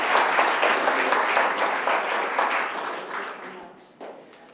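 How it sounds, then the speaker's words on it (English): A board of education meeting audience applauds after a performed rap, the clapping loud and dense at first, then gradually thinning and fading as a voice starts to come through. "let's give him a round of applause"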